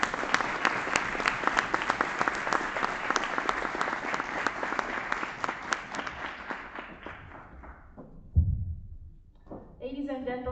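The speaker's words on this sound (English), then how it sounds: "may we please give her another round of applause" An award ceremony audience breaks into sustained, dense applause that carries on for several seconds, then fades out, followed by a brief thump and the start of someone talking.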